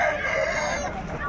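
A rooster crows at a busy chicken market in Pileru, Annamayya district near Tirupati: one long, loud, close call held steadily for over a second.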